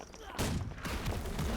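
Heavy cannon fire from warships in a naval video game, a sudden loud blast followed by continuous booming and rumbling, with speech-like sound mixed in.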